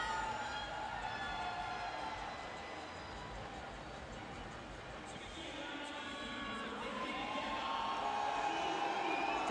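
Spectators cheer in a packed arena at a Rio 2016 Paralympic women's 400m freestyle S8 swimming final, a steady crowd roar with raised voices and whistles, while commentary talk runs over it.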